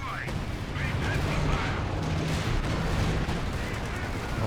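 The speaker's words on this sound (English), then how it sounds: "Petard mortar hits the Panther" Petard mortar and artillery barrages in Company of Heroes 2 crash continuously in a dense wall of booms and rumbling blasts, loud and sustained throughout, with a voice talking over the battle.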